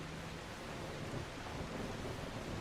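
Light rain falls in The Last Caretaker, a faint, steady broadband hiss with no distinct drops, continuous and soft throughout.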